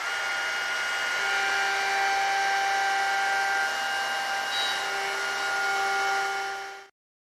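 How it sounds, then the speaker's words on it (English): A router cutting a slot in a wood board held in a jig, a steady loud high-pitched whine that holds for several seconds and then cuts off abruptly. "I can go ahead and route out that slot."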